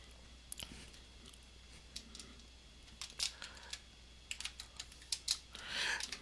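Someone types on a computer keyboard while entering a spreadsheet formula: sparse, soft clicking keystrokes in small clusters, close and fairly quiet.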